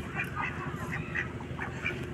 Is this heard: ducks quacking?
yes